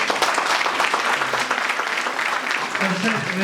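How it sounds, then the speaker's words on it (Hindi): Applause at a BJP party gathering in an office: dense, continuous clapping from a crowd, steady and fairly loud for the whole stretch, with faint voices underneath. "देश प्रताप जी के लिए जोरदार ताली बजाइए"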